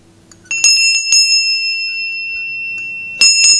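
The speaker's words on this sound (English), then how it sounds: "which is a really lovely German bell." A lovely German bell, struck twice close up with clear ringing dings that ring on and slowly fade between the strikes.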